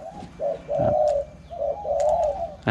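Several light, higher-pitched spotted dove coos repeat in a quick series, fairly close, with faint background noise.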